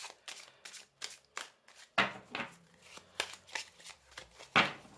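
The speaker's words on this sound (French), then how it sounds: "On va tirer une carte de l'oracle du soleil." Oracle cards shuffled and drawn by hand for a tarot reading, a rapid series of close, crisp riffling flicks and slaps in uneven bursts, quiet and alone.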